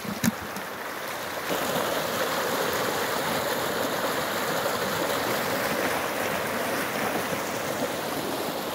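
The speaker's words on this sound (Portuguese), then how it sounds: "A água vem no rego." Water rushes strongly and steadily along a small channel outdoors, a loud, continuous broadband flow that swells after a brief quieter start.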